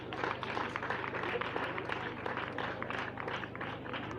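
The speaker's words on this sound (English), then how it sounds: "Children, give a very big hand clap to our dear parents." Pupils clapping at a primary school ceremony, a soft, steady patter of many small hands heard from some distance over a low background hum.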